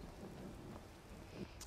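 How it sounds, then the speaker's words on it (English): Steady rain in the Skyrim video game, a dense hiss of falling drops with a low rumbling undertone, brief and fairly faint with no voices. "If it's programmed to, like, rain randomly at time intervals, or if it rains more likely in certain areas"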